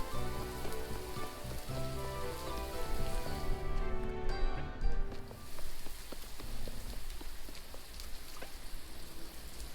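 Steady rain falls in a video game scene, a dense hiss of drops that swells slightly midway and continues alone without speech.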